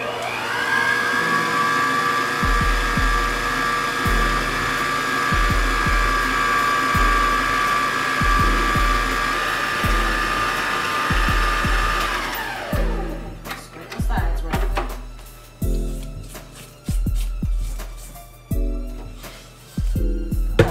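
An electric mixer whirs steadily through cream cheese pound cake batter with rhythmic thumps as it knocks the bowl, then stops and starts in short bursts with clatter between runs.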